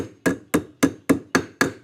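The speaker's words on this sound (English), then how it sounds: "The side of the hammer will do better." A hammer taps a trailer wheel bearing into place on a Kompact Kamp Mini Mate, six sharp, evenly spaced metallic knocks in quick succession, close and clear with short ringing decays.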